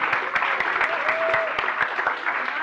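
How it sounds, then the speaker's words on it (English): Audience applause at the opening session of a youth work academy, steady clapping from a crowd close by with scattered cheers, and a brief whistle-like tone in the middle. "An applause for them."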